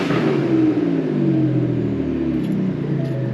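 A twin-turbo V6 EcoBoost Ford Raptor R fitted with a Borla Attack exhaust revs loud and close, a deep steady rumble with a swelling engine note throughout, no talking.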